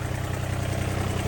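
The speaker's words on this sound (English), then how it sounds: "tractor noise." A tractor engine idles with a steady, low, throbbing rumble, loud and continuous throughout. No voices are heard.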